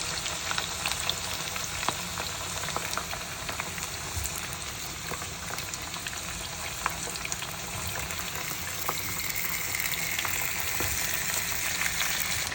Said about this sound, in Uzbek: Kartoshkani birinchi solib, chiroyli qilib, buni qip-qizil qilib olamiz